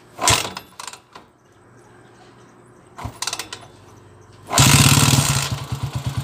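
Motorstar TMX155 motorcycle converted to a 175cc engine, kick-started with a stiff compression: a couple of sharp kicks and clatters, then the engine catching and running loud and close with a rough, pulsing idle.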